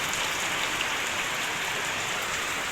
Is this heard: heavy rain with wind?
yes